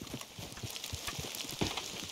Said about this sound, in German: Ich habe doch nur mein Pferd gerufen.